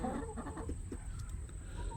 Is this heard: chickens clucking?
yes